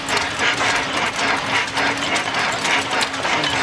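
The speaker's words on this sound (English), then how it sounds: "That's how a hit-and-miss engine works." A vintage hit-and-miss engine at a tractor and engine show runs slowly, a loud close rhythmic chuffing of evenly spaced firing pulses roughly every half second.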